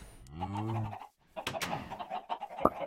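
A chicken in Minecraft clucks, a short run of close, clear bird calls followed by quick choppy clucks, with no talk over them.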